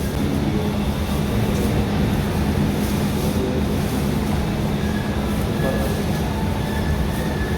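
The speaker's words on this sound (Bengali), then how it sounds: "এই হলো রোমের মেট্রো স্টেশন" A metro train runs through a station in Rome, a loud, continuous low rumble and rolling rail noise with faint higher squeals, close by and steady.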